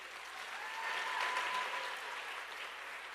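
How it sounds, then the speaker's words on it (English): Audience applauding a 15-year-old tabla player after a dance debut performance, a dense, even clapping from a moderately sized crowd, swelling slightly in the middle and holding steady throughout. "And another round of applause for Danishk Iyer, who is our 15-year-old tabla player."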